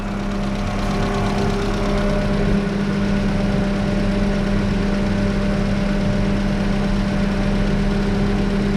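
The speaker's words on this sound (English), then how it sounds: "AC compressor is moving now, running." A Chevrolet Spark (Daewoo Matiz) engine idles with its AC compressor engaged, producing a steady, loud, unbroken mechanical drone with a low hum and constant vibration throughout.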